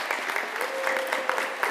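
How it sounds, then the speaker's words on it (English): An audience at a BXA diploma ceremony claps steadily, dense hand claps filling the room in a sustained burst of applause. "Folks, let's pause for applause"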